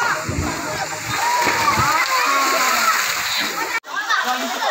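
A child jumps from a height into a river fed by spring water, and a rushing splash and churning water sound close by, with people talking and calling over the noise.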